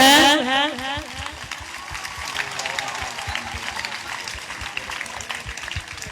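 A crowd at a church coronation ceremony for a statue of Mother Mary claps steadily and fairly lightly, following a brief moment of a voice at the start.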